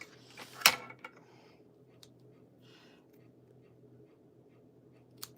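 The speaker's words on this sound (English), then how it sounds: "I'm gonna trim these numbers off" Paper being trimmed for a scrapbook layout: a few short, crisp cutting snips, the loudest near the start, with sparse light handling rustles between them in a quiet room.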